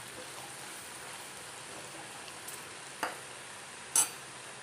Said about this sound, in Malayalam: ഈ എണ്ണയ്ക്കകത്ത് ഇട നന്നായിട്ട് മൂത്ത് വരട്ടെ.